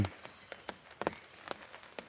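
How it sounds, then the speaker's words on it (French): Rain falls on a fishing bivvy shelter beside a canal during a carp session, producing faint, irregular patters and scattered drop impacts with no speech. "Il pleut pas mal."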